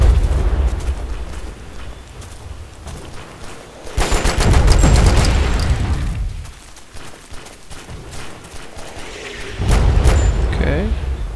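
Gunfire in the video game Delta Force: Xtreme 2: loud bursts of automatic fire and booming shots in several volleys, separated by quieter stretches with scattered cracks.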